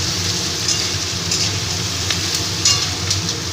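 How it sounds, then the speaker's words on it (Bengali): Papaya and potato pieces frying in a pan for a vegetable stew give a steady, close sizzle with faint crackles and a few sharper pops, no voices. "দিয়ে একটু আমি এটাকে ভেজে নেব ভালো করে ভেজে নেব"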